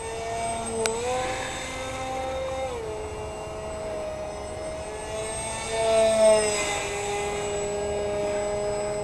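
A radio-controlled EF-2000 model jet flies slow circles overhead, its turbine giving a steady high whine that shifts in pitch as it banks, moderately loud, with no voices.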